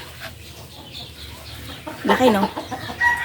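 A hen clucks in a short burst of throaty calls, fairly close, with a brief spoken question nearby and quiet farmyard background.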